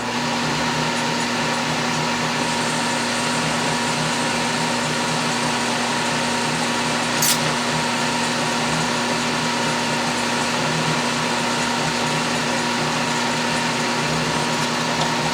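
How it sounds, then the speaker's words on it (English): An Atlas metal lathe turns down small steel stock for a wiggler edge finder, giving a steady, even machine whir with a constant hum that runs unbroken at moderate level, one brief sharp tick near the middle, and no talking. "I'm back on the Atlas lathe constructing just the end part here, and this is what I'm turning down"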